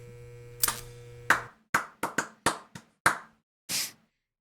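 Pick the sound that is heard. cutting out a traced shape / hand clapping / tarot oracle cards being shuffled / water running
hand clapping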